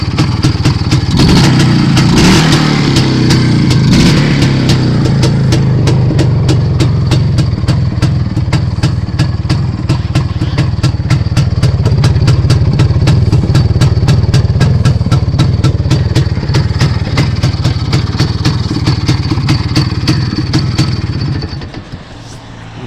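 A motorcycle engine idles steadily and loudly up close, a rapid chugging putter that runs the whole time before cutting off at the end.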